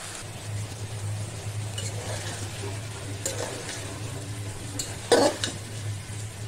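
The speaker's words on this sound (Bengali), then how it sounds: "আমি একটুক্ষণ কষাবো।" Vegetables with bitter gourd being sautéed in a pan with very little oil, giving a steady low sizzle with soft scraping stirs and a brief louder clatter near the end, no voices.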